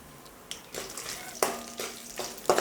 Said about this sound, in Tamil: வரமிளகாயும் சேர்த்து நல்லா எண்ணெயில் ஃப்ரை பண்ணிக்கிறேங்க